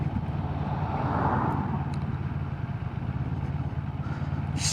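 A motorcycle, a Moto Morini Seiemmezzo or CFMoto CL-X adventure bike, ridden slowly. Its low engine drone runs steadily under rushing wind noise, fairly close, with no talking.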